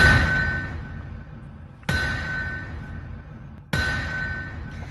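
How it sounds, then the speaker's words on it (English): An anvil clang sound effect rings out three times at steady intervals, each a sharp bright metallic strike followed by a decaying ring, loud and alone with no talk. "that is the official sound of the anvil"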